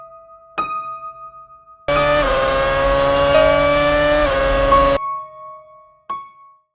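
A Formula One car crosses the start-finish line on lap 60, a steady loud engine roar lasting about three seconds between quiet gaps with brief tonal beeps.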